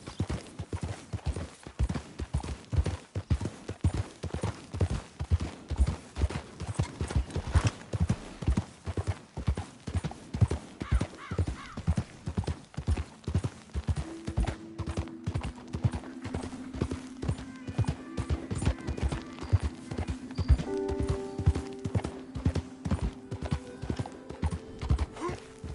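A horse gallops in the game Red Dead Redemption 2, with rapid, steady hoofbeats throughout. A neigh and some ambient game sound come in toward the end.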